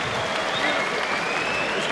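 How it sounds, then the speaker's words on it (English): Crowd at a WBO featherweight title boxing match applauds at the end of the seventh round, a moderate, even patter of clapping with a faint whistle-like tone running through it. "Subdued sort of crowd at the end of that 7th round"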